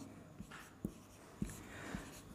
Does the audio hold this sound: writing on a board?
yes